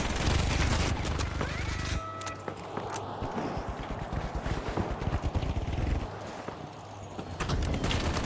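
Rapid bursts of gunfire from enemies in a zombie shooter game, dense crackling volleys running almost throughout, with a brief lull midway before the shooting picks back up.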